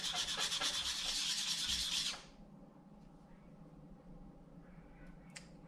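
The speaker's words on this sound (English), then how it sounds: "it's definitely getting some polish on the end, which is where we need to get a sharp point on the chisel" Cheap, damaged chisel blade being rubbed on a sharpening surface, a loud steady scraping that runs for about two seconds and then stops, leaving quiet room tone.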